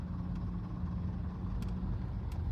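Road traffic is heard from inside a car stuck in a one-lane jam, a steady low engine and road rumble with faint passing noises and no talking.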